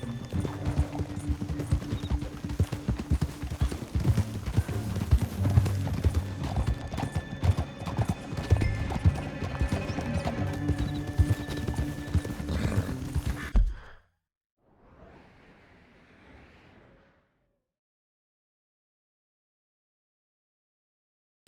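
Horses gallop with rapid, heavy clip-clop hoofbeats in a Red Dead Redemption 2 chase, loud and continuous with occasional snorts, then cutting off abruptly and leaving a brief faint rustle and silence.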